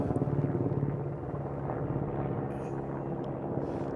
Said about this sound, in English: It's a military helicopter.